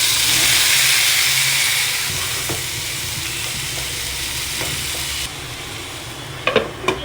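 Mixed vegetables hit hot oil seasoned with cumin, panch phoron and black cumin, bursting into a loud sizzling hiss that gradually settles, followed by a few sharp clanks of a spoon or lid near the end.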